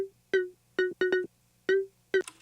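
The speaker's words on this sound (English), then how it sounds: "So I started with the patch LD Birth of Electro," Serum synth lead from the LD Birth of Electro patch, dry with no effects, playing a short staccato riff of about seven bright, buzzy plucked notes with gaps between, alone and up close.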